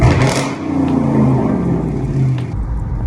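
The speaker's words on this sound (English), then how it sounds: "I cut my mufflers out, so they said I voided out the warranty of the exhaust system. I had it straight pipe." Dodge Charger with a straight-pipe exhaust and mufflers cut out, its engine revving up loud and close into a deep throaty roar before easing off near the end.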